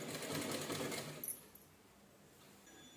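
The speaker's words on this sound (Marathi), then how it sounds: "एकसारखी शिलाई करून घ्यायची." Sewing machine stitching a pillow cover, a close, steady mechanical whir that runs for about a second and then drops away into quiet room tone.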